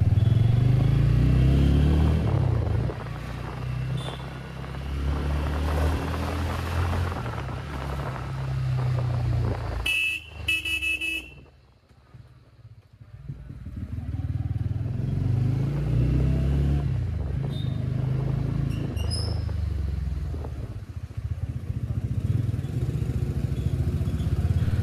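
A TVS Ronin motorcycle being ridden and pulled hard, its mid-pitched engine droning loudly and steadily with a short dip partway through before building back up, alone with no talk.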